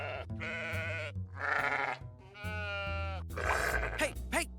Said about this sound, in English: Hey, stop threatening my sheep.